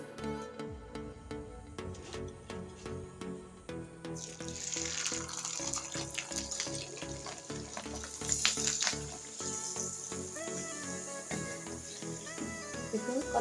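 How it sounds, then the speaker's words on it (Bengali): Pata pitha rice cakes fry in hot oil, a steady hiss and crackle of sizzling that grows louder partway through, set under a continuous layer of soft background music. "তাহলে চলুন দুটো ভেজে দেখা যাক কীরকম হয়।"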